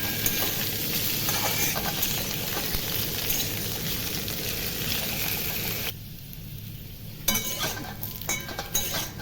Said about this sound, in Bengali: একদম মুচমুচে করে আমি ভেজে নেবো